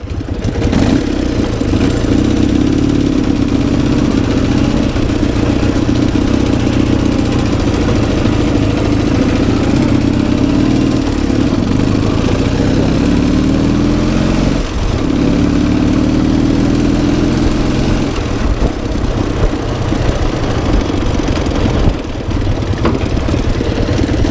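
An MT motorcycle engine runs loudly and steadily throughout, its low rumble rising and falling in pitch as it revs while being ridden across fields.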